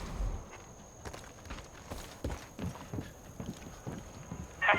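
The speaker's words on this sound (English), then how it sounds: "They're bringing in cows!" Hooves clop on the ground as animals are driven in during Far Cry 5 gameplay, a loose, irregular run of footfalls at moderate distance against a quiet background.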